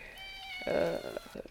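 A cat in a video game gives a single clear meow, close and moderately loud, rising and then trailing off against a soft musical background.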